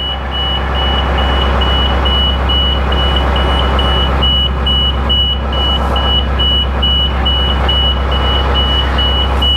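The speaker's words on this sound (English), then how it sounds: "I don't know why it's still beeping" An old school bus idles with a loud low engine rumble while its reversing beeper sounds in a steady rapid repeating pulse, close and continuous, without talk.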